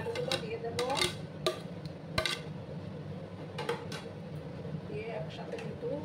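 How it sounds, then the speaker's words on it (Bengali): Beans and potatoes tipped into a cooking pan for a Bengali vegetarian bean dish, several clattering knocks of utensils against the pan under a voice. "এবার আমি দেখো শিমগুলো আর আলুগুলো দিয়ে দেব"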